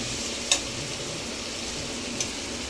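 Mutton curry being stirred in hot oil in a pan, a steady close sizzle and fry with a few soft scraping clicks of the spoon.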